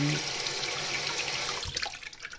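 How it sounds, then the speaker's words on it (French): Dishes rinsed under a running kitchen tap after cooking cheddar pasta, a steady loud hiss of water that breaks into splashier, uneven spatter near the end, close by, with no talk. "On va rincer un peu."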